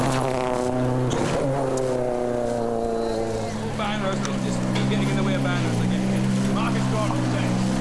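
Marcus Gronholm's WRC rally car at the 2006 Rally Spain approaches the stage end, its engine a steady loud drone with shifting pitch throughout, under a commentator's voice.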